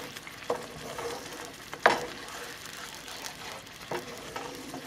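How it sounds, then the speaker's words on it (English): Oil and chili paste are stirred in a pan, giving a soft continuous sizzle with a few scraping knocks of the utensil against the pan, one louder than the rest, fairly close and without any talk. "Make sure you stir that oil and that chili paste well, okay?"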